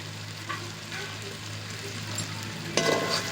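Spiced chicken sautéing in oil in a pan hisses with a steady sizzle while a spoon stirs it, occasional scraping and a louder stirring burst near the end.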